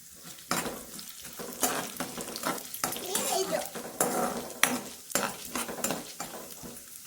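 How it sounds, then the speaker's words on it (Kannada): Moong dal and chana dal frying in a pan for tempering, a steady close sizzle broken by repeated scrapes and clinks of a spoon stirring against the metal pan. "ನೋಡಿ ಹೆಸರು ಬೇಳೆನೂ ಕಡಲೆಬೇಳೆನೂ ಹಾಕಿದ್ದೀನಿ ಒಗ್ಗರಣೆಗೆ"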